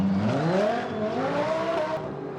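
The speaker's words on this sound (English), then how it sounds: "Donuts for Laurens Vanthoor for the crowd here in Baku" GT race car doing donuts for the crowd at Baku, its engine revving in a rising and falling whine over about two seconds, with a sustained tire-scrubbing hiss.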